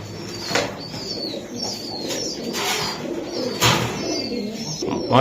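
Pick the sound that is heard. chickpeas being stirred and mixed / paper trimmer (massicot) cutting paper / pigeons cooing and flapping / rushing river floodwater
pigeons cooing and flapping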